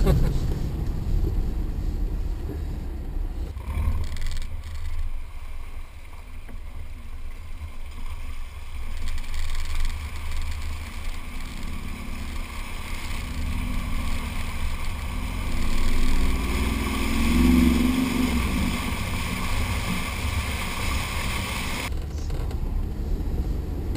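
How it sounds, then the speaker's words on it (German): A Mercedes-Benz G 63 AMG 6x6 drives into water, its engine a low rumble under rushing, splashing water that swells midway, with faint voices in the cabin. "Fahren gerade ins Wasser rein. Waschen wir die Räder wieder ab."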